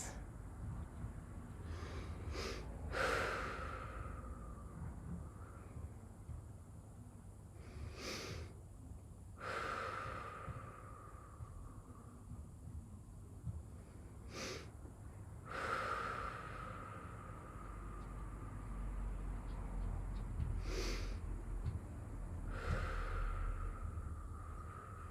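Slow, deep breaths drawn and released during a child's pose in a hatha yoga class, several long airy inhales and exhales spaced a few seconds apart, close and fairly soft against a low room hum.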